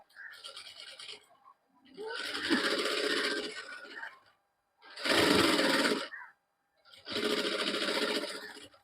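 A sewing machine fitted with a rolled hemming foot stitches a hem on a kaftan dress in four loud, close bursts of steady whirring, separated by short pauses.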